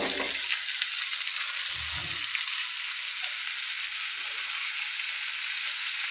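Bitter gourd frying in a pan gives off a steady, bright oily sizzle throughout, with a couple of soft low thumps and clatter from stirring early on.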